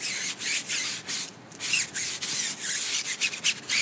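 HDX scrub brush scrubbing a dirty tire coated with Purple Power cleaner, with rapid rhythmic bristle rubbing strokes, close and steady with brief pauses.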